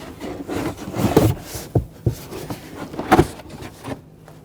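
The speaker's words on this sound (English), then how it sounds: "just grab the carpet and let's pull this out of the way" Trunk carpet pulled out of a 2007-2013 BMW 328i, with scattered rubbing, scraping and dragging sounds and a few sharp knocks, close and fairly loud.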